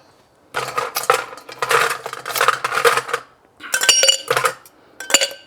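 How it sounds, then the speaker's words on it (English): Three ice cubes clatter into a metal cocktail shaker, each drop a bright, close clink, then the shaker is handled with more rattling and jingling in several short bursts. "let's get some ice in our shaker again"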